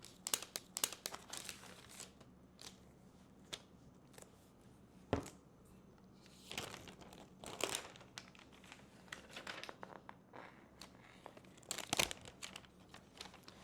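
Paper wrapping around a new Apple MacBook Pro M5 Max crinkles and rustles as it is handled and unwrapped, with scattered close crackles and a few louder crunches, no talking.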